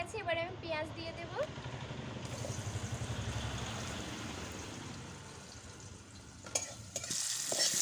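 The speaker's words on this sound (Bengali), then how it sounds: "কড়াইতে তেল দিয়ে দিয়েছি, তেল গরম হয়ে গেছে, এবারে আমি পেঁয়াজ দিয়ে দেব।" Onions hitting hot oil in a wok for a spicy small-crab curry, a steady close sizzle and frying crackle with stirring, a voice speaking over the start and a brighter burst of sizzling near the end.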